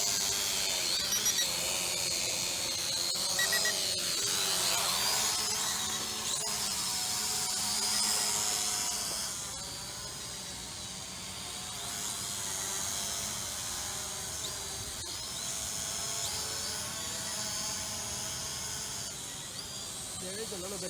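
An Eachine 520S drone lifts off on auto takeoff outdoors in light wind, a steady high-pitched motor and propeller whine holding loud and constant throughout.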